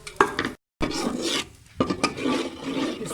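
A spoon scrapes and stirs gram flour roasting in ghee over a low flame, giving rough rasping strokes in uneven bursts with a short break partway through.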